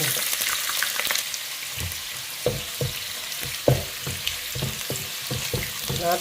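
Vadavam seasoning balls fry in hot oil, giving a bright sizzle broken by a series of sharp pops and spoon knocks against the pan, close and unvoiced.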